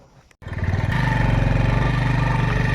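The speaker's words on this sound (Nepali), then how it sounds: "बाइक चाहिँ स्टार्ट हुँदैछ जानलाई" A motorcycle in a village in Ilam starts after a short click, then settles into a loud, close, steady putter of the idling engine.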